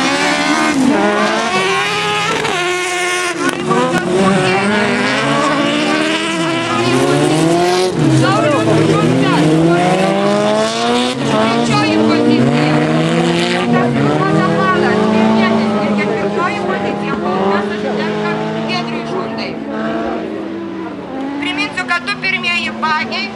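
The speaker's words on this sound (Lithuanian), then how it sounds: "Šių bagių širdis Kawasaki motociklo varikliai." Autocross buggies powered by Kawasaki motorcycle engines race at a 2011 event in Molėtai. Loud, high-revving engine whines rise and fall continuously as several machines pass close by, with tyre noise and a voice speaking over the din.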